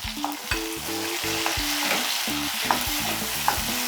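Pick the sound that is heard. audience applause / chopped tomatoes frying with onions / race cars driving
chopped tomatoes frying with onions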